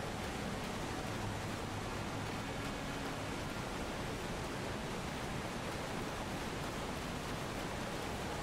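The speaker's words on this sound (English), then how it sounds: "Hello, waterfall." Waterfall in the video game Elden Ring, a dense, steady roar of rushing water that holds constant throughout, loud and without pauses or voices.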